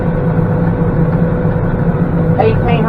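A Massey Ferguson 4707 tractor pulls a hay baler up a steep field, its engine a steady, loud, low drone throughout, with a brief faint voice near the end.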